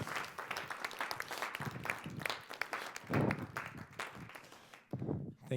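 An audience at an evening community gathering breaks into sustained applause, a dense wash of many hands clapping that swells and fades in waves over several seconds.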